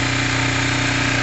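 A Kawasaki ZL600 motorcycle engine idles while warming up, a loud, steady, even rumble held without change for the whole stretch.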